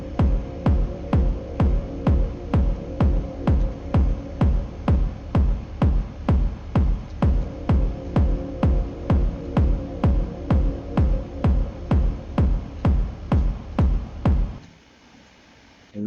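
A sustained synth pad chord drones steadily, pulsed by a regular rhythmic gating, then cuts off abruptly near the end, leaving faint residue.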